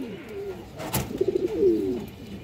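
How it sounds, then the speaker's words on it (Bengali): A female red-necked pigeon coos close by: one short, throaty rolling phrase of quick pulses after a sharp click, with soft background rustle. "একটা লাল গলা মাদি কবুতর মাশাআল্লাহ"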